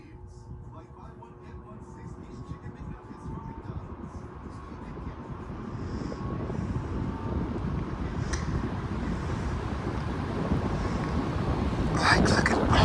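A vintage Emerson electric table fan starting up on medium speed, a rising whooshing hum of air that builds steadily louder over several seconds, with a faint clatter near the end.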